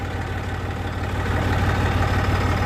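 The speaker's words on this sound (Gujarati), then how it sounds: "તો ચાલો ટ્રેક્ટર મૂકતા આવીએ હવે ઘેરે." A farm tractor idles nearby with a steady, low, chugging rumble that holds an even pulse throughout, and no voices.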